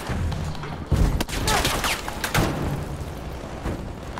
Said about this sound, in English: Vickers gun